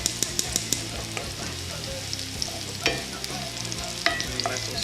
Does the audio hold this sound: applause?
no